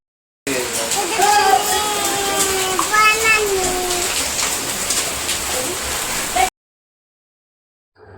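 Hailstorm rain pours down outside a house in a steady, loud wash of noise while children's voices chatter and shout over it, ending in an abrupt cutoff.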